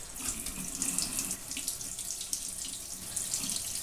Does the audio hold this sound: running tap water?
yes